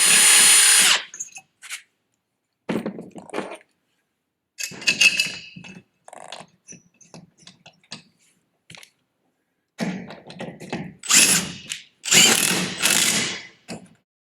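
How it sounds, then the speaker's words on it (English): A power drill whirs in several short bursts separated by pauses, drilling through a wall bracket for a clothesline, close and fairly loud, with some knocking and handling noises between. "we get our drill and we drill through the bracket"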